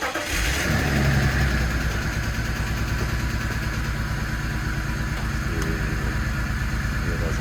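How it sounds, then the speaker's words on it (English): A BMW E39's engine cranks and catches after a brief pause, then settles into a steady, fairly loud idle close by, with no talking. "and then we're gonna do a test drive."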